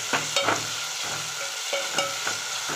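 Onions and tomatoes sauté in a pan for moong dal fry, with soft steady sizzling and frying broken by several clattering stirs of a utensil against the pan, close and moderately loud with no talk.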